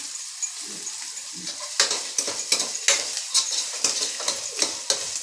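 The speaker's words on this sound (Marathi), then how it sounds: "आता मस्त तळून देऊ त्याला पूर्ण." Chili and curry leaves fry in hot oil in a pan, giving a steady close sizzle broken by bursts of crackling and popping, with a few soft stirring clinks.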